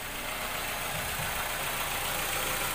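A 2002 Honda CR-V with a K20 engine runs after a starter replacement, a steady idle hum with a faint low knock, moderately quiet and continuous without speech.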